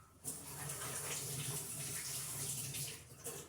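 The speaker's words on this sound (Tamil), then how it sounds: "இது என்ன பண்ணுவோம் கழுவிடுவேன்" Sourish greens (pulicha keerai) are washed in water in a home kitchen. Water gushes and splashes steadily and closely for about three seconds, with no talking over it.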